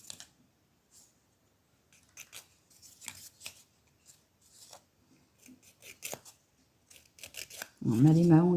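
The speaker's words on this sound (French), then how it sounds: "Bon, ma lime à ongles est un peu usée." Scraping strokes of a worn nail file on fingernails during a manicure, a run of short, irregular rasping passes close to the mic, ending in a brief louder tonal sound.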